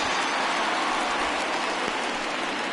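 Steady rain hisses through a baseball video game broadcast, a dense, even wash that holds at a constant level for the whole stretch with no voices over it.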